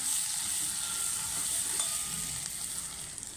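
Spices for sambar sizzle in hot oil over a low gas flame, a continuous close crackling hiss that stays steady and loud throughout with no talking.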